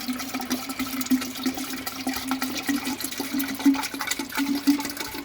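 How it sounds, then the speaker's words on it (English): Green water poured from outside into a container in a basement tank for Moina and Daphnia, a steady close splashing and trickling pour that runs continuously with small surges, no voices. "And now pour in that green water from"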